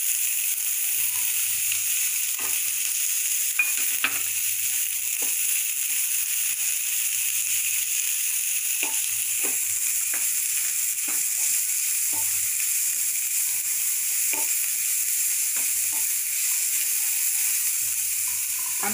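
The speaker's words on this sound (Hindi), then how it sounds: "थोड़ा थोड़ा करके अपनी वेजिटेबल्स को डालते जाएंगे।" Vegetables such as baby corn and cauliflower sautéing in a pan for lemon coriander soup, a steady close sizzle with occasional stirring clicks and scrapes throughout, no talk.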